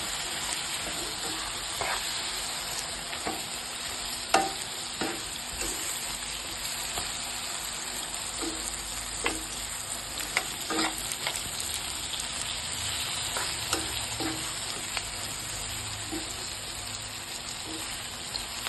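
Raw plantain pieces sizzle steadily in a pan of hot oil, a continuous bright frying hiss with occasional soft scrapes and clicks as they are stirred, close and moderately loud with no talking.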